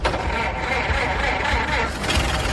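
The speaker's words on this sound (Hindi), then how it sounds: "कार तो स्टार्ट हुई," A car engine cranking and catching, a dense steady mechanical roar that stays close and loud throughout, with a brief swell near the end.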